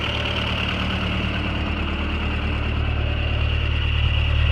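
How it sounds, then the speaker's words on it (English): A restored 1946 Jeep Willys CJ-2A idles steadily up close, its low, even engine rumble running unbroken and loud throughout with no voices over it. "I'm going to turn this engine off"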